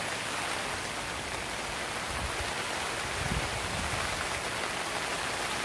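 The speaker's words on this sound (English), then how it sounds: "it's raining hard right now" Hard rain pours down on a tent as a dense, constant wash of hiss, loud and unbroken throughout with no voices.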